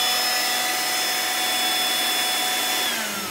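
Vacuum cleaner running while sucking up stink bugs, a steady loud high-pitched motor whine with airy hiss that holds for a few seconds, then begins to wind down at the end.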